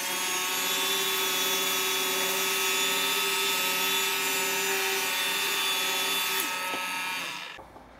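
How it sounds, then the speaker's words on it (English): A random orbit sander whirs steadily against wood with a constant high buzzing drone, then winds down and stops near the end. "I'm going to save myself a little time just with the random orbit sander."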